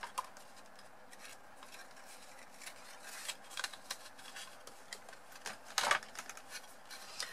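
Scissors cut through paper card in a series of quiet, crisp snips and rustles, spaced irregularly and close up, in a calm quiet room.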